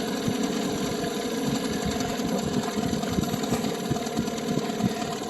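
A boat engine idles steadily while warming up on the water, a continuous mid-pitched running hum with a faint rhythmic knock, close and constant without a break.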